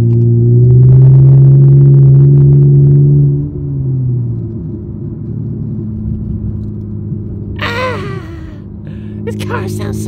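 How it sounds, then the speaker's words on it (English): A loud, deep modified car engine rumble idles steadily, dropping slightly after a few seconds, with voices and movement noises later. "This car sounds so good."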